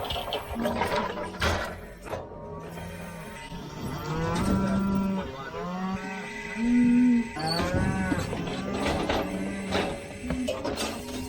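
Black Angus cattle and calves moo repeatedly, with several long, loud, close bellows overlapping one another amid farmyard bustle and no talk.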